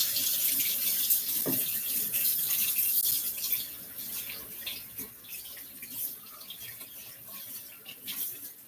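Water runs from a kitchen tap over a mixer attachment being washed, a steady splashing hiss with occasional knocks and rattles of the metal piece, close and without talk.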